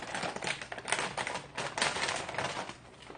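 A wasabi-flavored takoyaki ball snack package being torn and crinkled open, a dense, close run of sharp plastic crackling bursts with no talking.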